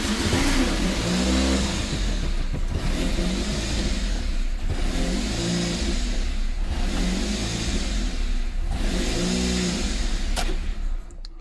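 Chevrolet Cobalt SS engine idling with a lean fault, its revs rising and falling in a steady surging cycle about every two to three seconds, loud and close.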